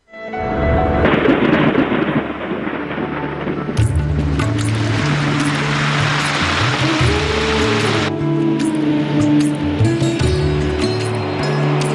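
Heavy rain pours steadily while loud thunder rumbles and cracks, with a stronger, brighter burst of downpour midway through a sustained monsoon storm in India.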